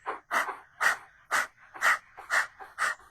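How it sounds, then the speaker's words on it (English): A person pants rhythmically like a dog as a breathing exercise in a Kundalini morning practice. About seven sharp, breathy pants come in a steady, even rhythm, close and alone. "you can try panting like a dog"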